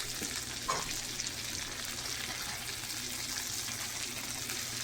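Lamb steak sizzles and fries in butter in a pan, a steady close crackle with a brief spoon-like clink near the start and no talking.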